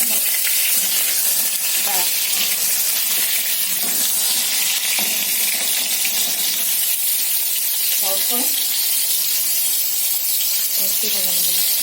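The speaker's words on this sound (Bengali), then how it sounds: "এই জন্য আমি একটু ভেজে নেব।" Pointed gourd (potol) frying in a pan of oil, a dense continuous crackling sizzle from start to finish, with occasional stirring and brief bits of talk over it.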